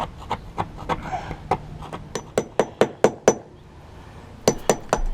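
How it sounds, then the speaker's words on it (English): A chisel is tapped into blisters on a fiberglass boat hull, giving a series of sharp, close knocks in uneven bursts with short pauses between groups. Nobody speaks. "I prefer chiseling them out because it preserves the good laminate around it"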